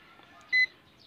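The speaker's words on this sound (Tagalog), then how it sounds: "So buzzer check lang muna tayo guys. Buzzer check." A multimeter's continuity buzzer gives a single short, shrill electronic beep during a check on a portable multi-band radio with no power, standing out against a quiet room.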